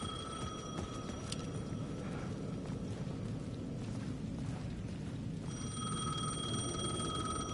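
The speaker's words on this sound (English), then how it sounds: "The payphone at the edge of the plaza was ringing again." A payphone rings in a plaza in Alan Wake 2 on PS5, its electronic bell tones repeating in steady bursts at the start and again near the end over a constant dark ambient rumble.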